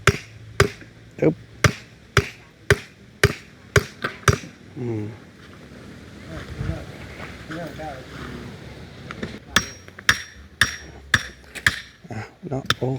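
Sharp, loud hammer blows driving stakes into the ground to mark house post positions at a home building site, a steady run of strikes at the start and again near the end, with someone talking between them.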